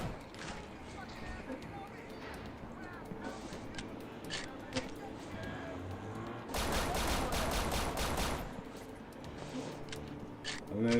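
Enemy shotgun fire in a video game: scattered loud blasts, with a dense cluster of rapid shots in the middle, all under someone talking throughout.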